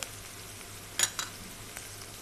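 Green chillies frying in hot oil with onions, a soft continuous sizzle with a couple of brief clinks near the middle, quiet and close.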